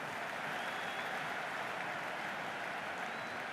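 A large stadium crowd at a cricket match in the Cricket 26 video game roars and applauds in a steady, dense wash of noise, moderately distant and unbroken throughout.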